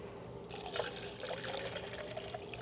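Homemade cold brew coffee is poured into a measuring container, a close, continuous liquid splash and trickle lasting a couple of seconds.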